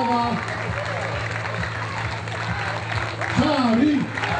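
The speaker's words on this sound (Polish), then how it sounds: "Brawa, brawa, brawa" Crowd applauding women basketball players at an outdoor championship celebration in Polkowice town square, steady clapping beneath a loud announcer's amplified voice.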